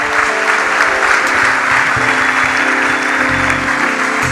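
A church congregation applauds loudly and steadily during a worship service, a dense sustained wash of clapping from many people in a large room, with faint voices underneath.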